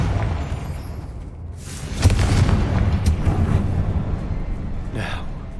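A Confringo fire spell bursts in the Hogwarts Legacy video game, a deep rumbling boom followed by sustained crackling blast noise and a lighter burst near the end.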